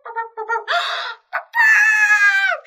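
A hen's clucking sound effect in a Spanish-language children's story: a few short clucks first, then a drawn-out loud squawking cackle, close and clear with no talking over it.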